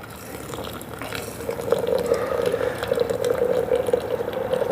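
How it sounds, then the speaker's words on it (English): Hot water poured into a French press at a coffee company, filling toward a marked line for about 20 ounces; a steady, close liquid pour with a gurgling, rising fill tone that holds throughout. "And now we're going to add our hot water"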